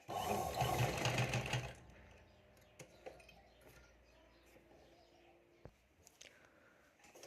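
A sewing machine stitches a blouse seam in a loud, fast burst of about two seconds, then falls quiet, leaving faint clinks and small handling sounds of the fabric.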